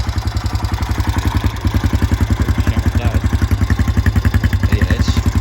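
Honda Foreman 450 ATV engine idling loud and close, a fast regular thumping pulse with mechanical clatter that holds steady throughout.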